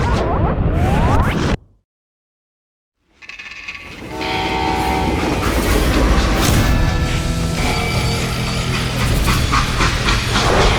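A video game train, a freight train in Call of Juarez: Gunslinger, rumbles and clatters steadily after a brief silence, with a loud horn blast and hissing steam layered over the rolling noise.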